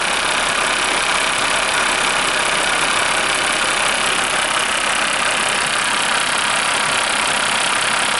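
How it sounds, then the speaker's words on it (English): A 1993 Mercedes-Benz 300SD W140 diesel engine idles steadily, a dense, even rumble with no pauses, heard close and alone throughout. "The car idles fantastic."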